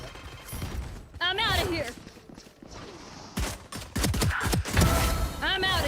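Gunfire in the Valorant shooter during a pro match: scattered sharp shots and short bursts mixed with game effects, while voices speak and call out over the action.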